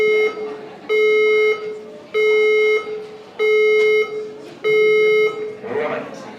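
A building fire alarm system sounds five long, loud, steady tones in a regular on-off pattern, each lasting about a second with short gaps between them.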